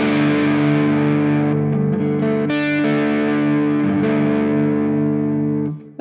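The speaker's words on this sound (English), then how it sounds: "let's start with the clean tone and hear how it sounds." A sustained electric guitar chord rings out through a Quad Cortex clean-tone amp preset with a slightly gritty, chorused tone, steady and loud before cutting off at the end.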